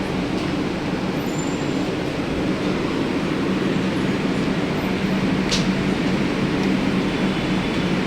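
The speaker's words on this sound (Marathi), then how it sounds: "6 मिनिटाच्या डिलेनी ट्रेन पोचलेली आहे." Saurashtra Janta Express, the 19217 Bandra Terminus to Veraval service, pulls into Palghar station running a few minutes late, giving a steady, loud rumble of rolling rail cars that holds without a break throughout.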